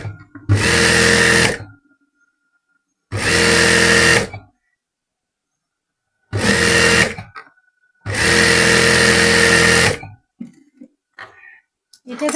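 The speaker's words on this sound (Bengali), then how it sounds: "এটার সাথে ম্যাচ করে এখানেও কিন্তু ডাবল সেলাই দিয়ে দিচ্ছি।" An electric sewing machine stitches a salwar in four loud, close bursts of rapid, even whirring, with silent gaps between the runs and a few faint handling sounds at the end.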